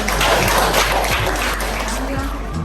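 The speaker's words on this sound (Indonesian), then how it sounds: "Oke, tepuk tangan dulu buat" Students in a classroom lesson clap together at a teacher's prompt, a continuous patter of hands with voices underneath and a few short vocal calls over the top.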